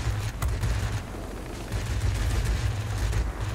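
Rapid bursts of 20 mm aircraft cannon fire in a warplane combat video game, a dense continuous low rumble with brief pauses, loud and close, with no voices.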